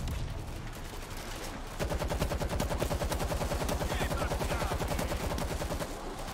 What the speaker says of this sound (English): Fire another mortar.